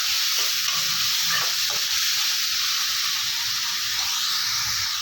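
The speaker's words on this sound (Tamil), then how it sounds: "இந்த தக்காளி நல்லா மசிஞ்சு வர அளவுக்கு வதக்கி விட்டுக்கலாம்" Onions and tomatoes sauté in a pan for chutney, giving a loud, constant hissing sizzle close up, with a few faint stirring scrapes underneath.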